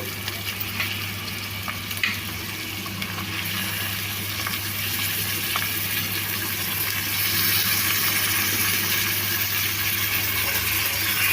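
Chicken curry pieces sizzle steadily in hot oil in a pot, a loud continuous frying hiss with occasional stirring scrapes and no talking.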